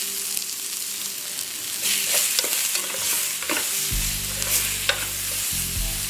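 Pieces of fish hit a hot paella pan for seafood paella, the stirring and scraping giving way to a loud, steady sizzle that flares up twice as more seafood goes in, close and with no one speaking.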